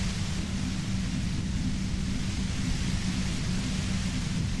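Dense, steady radio static hiss in Disco Elysium, filling the whole clip at constant loudness with a heavier low rumble, no voices.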